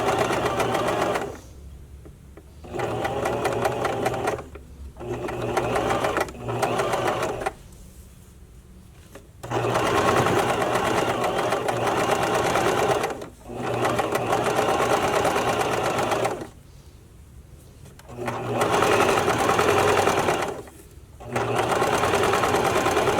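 Sewing machine stitching elastic onto a bra, running in several loud bursts of a few seconds each separated by short pauses, close and mechanical with a fast rhythmic clatter.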